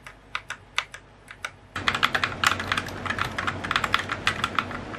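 Typing on a Fantech MaxPower MK853 mechanical keyboard with red switches and keycaps fitted: a few slow keystrokes, then a fast, steady run of close clacks.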